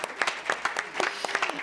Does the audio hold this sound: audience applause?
yes